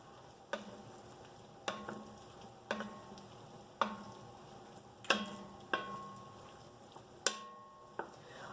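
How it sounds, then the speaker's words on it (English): A spoon scrapes and knocks around a pot of jackfruit chili with mushrooms on the stove, eight separate strokes about a second apart, each with a short metallic clink, over a faint steady simmer. "Then I want to stir it and see what it looks like."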